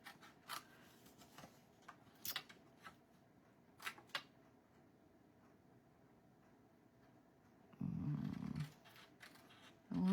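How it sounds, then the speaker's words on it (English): Scissors fussy-cutting paper with a border for a handmade card: faint, sparse snips and clicks in a quiet room, with a louder rustling burst near the end. "So I'm just going to fussy cut out with a bit of a border on it."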